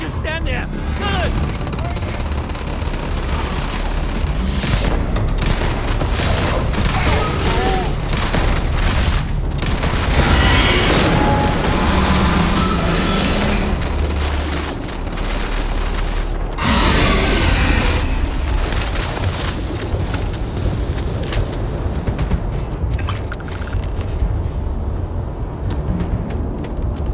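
Gunfire and blasts from a Starfield combat scene, a dense, loud stream of booms and shots running throughout with bursts of heavier impacts, while voices talk over the action.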